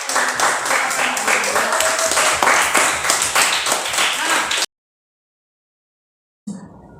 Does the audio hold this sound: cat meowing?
no